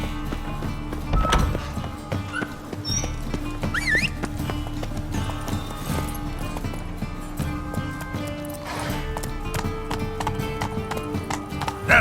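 Roach, Geralt's horse in The Witcher 3, clip-clops along in a rhythmic run of close hoofbeats, with a brief whinny partway through over a low game ambience.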